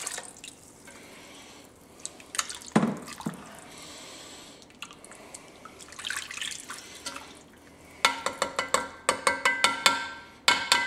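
Beef broth pours into a pot for a Cajun pot roast, a faint liquid splash and drip at first, then a burst of clattering, splashy knocks near the end.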